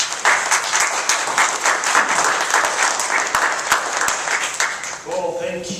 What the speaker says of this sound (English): Please give it an applause.